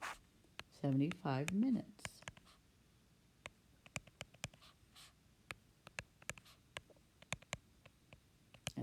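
Pen scratching out an answer on paper in short strokes and taps spread across the stretch, after a brief burst of someone talking at the start.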